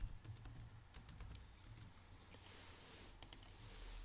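Keys on a computer keyboard clack in irregular bursts of typing, with a few sharper, louder strikes and short pauses between runs, close and alone.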